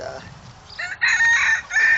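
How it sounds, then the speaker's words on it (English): A rooster crows loudly and repeatedly with drawn-out calls, while hens cluck softly in the background, close by. "But my chickens are all out"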